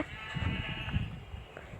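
Sheep in a block-building crafting game bleat in a couple of short wavering calls over a steady hum of game ambience, fairly close and moderately loud.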